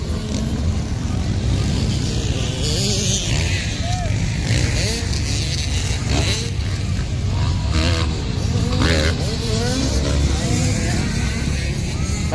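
A 150cc racing motorcycle roars past during a race, its engine note rising and falling in rapid revs, close and loud, with crowd noise and voices mixed underneath.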